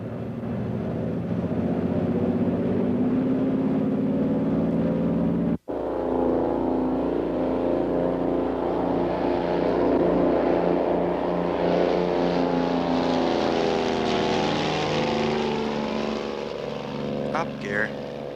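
A Twin Bonanza twin-engine airplane taking off from a Los Angeles runway, its engines a loud, sustained throbbing drone that swells as it accelerates, heard close up with only a brief dropout.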